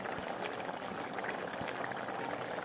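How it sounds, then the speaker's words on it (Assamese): Dal at a steady boil in a cooking pot gives a continuous close hiss of fine bubbling and small pops, alone with no talk. "দাইলখিনি এতিয়া ধুনীয়া ফুট আহি আছে"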